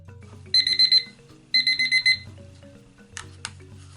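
Kitchen timer alarm going off after a five-minute countdown during resin crafting, sounding as two loud bursts of rapid high electronic beeps with a pause between, followed by faint clicks.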